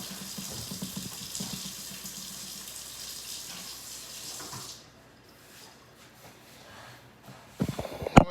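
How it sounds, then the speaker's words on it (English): Water runs from a household tap in a steady hiss for several seconds, then shuts off, leaving near silence before a few sharp knocks and handling sounds close by. "Let me turn this water off."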